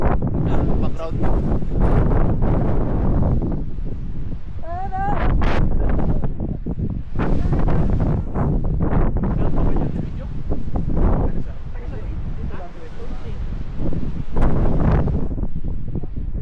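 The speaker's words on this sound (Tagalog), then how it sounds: "Ang lakas ng hangin dito guys." Strong, cold wind on the Aroro trail of Mount Isarog blasts into the microphone in loud, continuous gusts with rustling around it, while people talk over it now and then.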